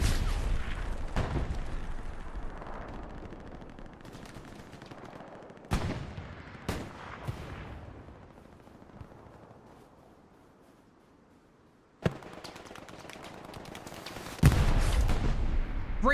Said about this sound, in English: Great rocket from Rangalicious, doesn't get the kill, but man, that got there.